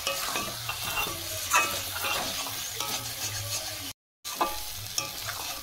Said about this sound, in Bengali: আমি কষানোর সময় অল্প একটু গরম মশলা দিয়ে দিচ্ছি।